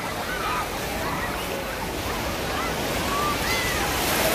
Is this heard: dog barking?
no